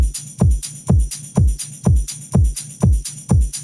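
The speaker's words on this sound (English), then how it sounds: "So the drums in the first half altogether sound like this." A programmed electronic drum loop pulses steadily, with booming kicks that drop in pitch on each beat, snappy snare or clap hits between them and a bright hi-hat shimmer on top, loud and alone.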